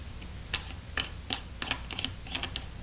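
A small threaded adapter is screwed onto an Argus C3 camera, giving a series of faint, dry metallic clicks and scrapes in an irregular rhythm, close to the microphone, with no one speaking.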